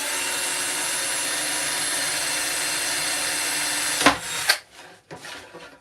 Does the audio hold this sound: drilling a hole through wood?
yes